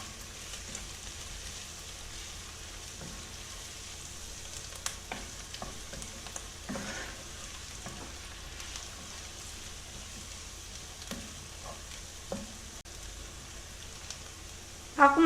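Softened onion and garlic fry in a pan under continuous stirring, a steady close sizzle broken by occasional light scrapes and taps of the utensil.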